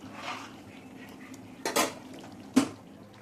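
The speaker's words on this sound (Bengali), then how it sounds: "এরপরে চিংড়ি মাছটা তুলে দেবো।" Prawns go into a pan of coconut masala with clinking metal utensils and stirring, a couple of sharp scrapes and knocks over a faint, steady sizzle.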